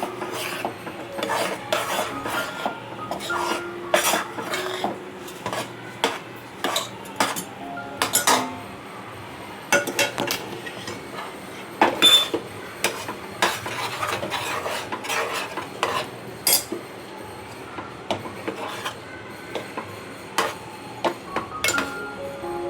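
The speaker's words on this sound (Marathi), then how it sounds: "बघा सगळं तांदळाचं पीठ घालून छान असं आपल्याला ढवळून घ्यायचंय, मस्त मिक्स करून." Rice flour being stirred into hot water in a pot for modak dough, with repeated rasping, scraping strokes of a spoon against the vessel and occasional clinks, close and fairly loud, without speech.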